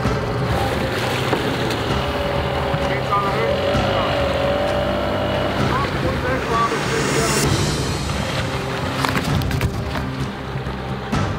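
A sailing yacht's engine held at high revs in a tense anchoring moment, a loud continuous drone with wind and water noise around it, voices shouting over it.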